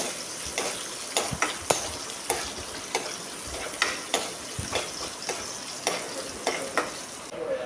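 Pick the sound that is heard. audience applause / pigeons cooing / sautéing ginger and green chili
sautéing ginger and green chili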